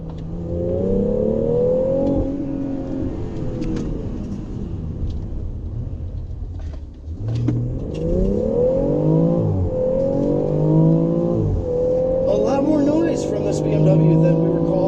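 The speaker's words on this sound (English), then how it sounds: "This new engine sounds amazing and brings really a throaty, authentic growl into the cabin" A 2018 BMW X3 M40i in sport mode growls throatily, its engine note rising and falling through repeated revs and gear changes, heard from inside the cabin with someone speaking over it.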